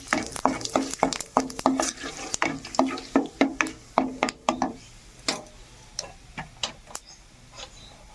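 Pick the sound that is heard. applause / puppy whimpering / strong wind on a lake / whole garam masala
whole garam masala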